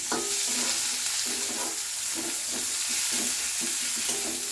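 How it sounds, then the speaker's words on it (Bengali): Garlic and chopped onion fry in oil with a loud, continuous sizzle while a utensil scrapes and stirs in a steady rhythm, and no one speaks. "আমি রসুনটা তেলের ওপর একটু ভালো করে নাড়িয়েই নিচ্ছি।"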